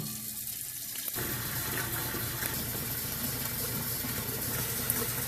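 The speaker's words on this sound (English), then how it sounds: "Fill the pot with water." Tap water running into a cooking pot in a kitchen, a steady close hiss and splash that starts after a second of quieter sound and continues evenly to the end.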